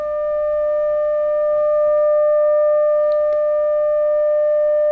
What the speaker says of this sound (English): And I've got a clean sine wave.